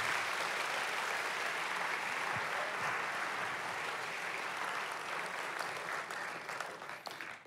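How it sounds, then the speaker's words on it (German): A church congregation breaks into sustained, loud applause that stays thick and even throughout, tapering slightly only at the very end. "Gebt euch einen Applaus, gebt Gott einen Applaus"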